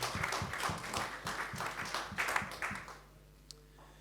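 Scattered hand claps from a modest audience at an Ethereum protocol discussion event, a brisk uneven patter of individual claps that tapers off after about three seconds, leaving a quiet room with one isolated tap.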